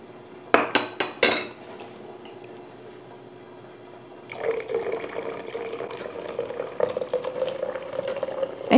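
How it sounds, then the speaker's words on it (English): A few metal clinks of a ladle, then steady liquid pouring and filling as hot elderberry juice from a steam juicer is ladled into a jar, close and moderately quiet. "I always start by ladling some juice into a jar first"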